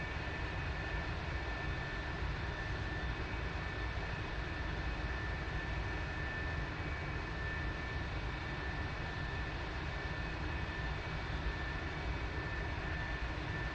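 Steady aircraft engine drone from DCS World flight simulator, flying over Afghanistan: a continuous, even, broadband roar with no pauses or changes, moderately loud and with no talking over it.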